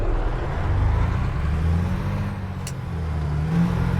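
A heavy truck in American Truck Simulator strains to pull away in fifth gear on a foggy road, its engine a low, labouring drone that dips and swells without picking up speed.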